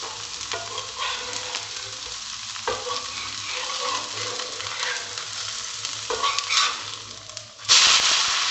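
Rava dosa sizzling in oil on a pan over low heat, a loud continuous close hiss with a few faint taps, then a sharp burst of louder crackling near the end.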